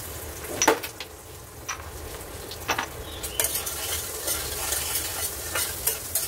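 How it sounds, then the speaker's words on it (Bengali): Potatoes frying in a pan are stirred, giving a soft continuous sizzle broken by sharp scraping and clinking strokes of the spatula at irregular intervals. "ভালো করে ভাজছি, একটু ভাজা হয়ে যাক ভালো করে।"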